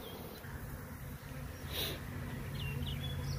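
A close, steady buzzing of many honeybees humming together around a queen, with a brief louder buzz as one passes nearby.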